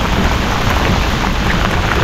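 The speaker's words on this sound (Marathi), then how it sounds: "आणि फुल पाऊस आहे." Heavy rain pours steadily and loudly throughout during a night prawn-fishing trip on a boat at sea, a dense, continuous hiss with no pauses and no voices.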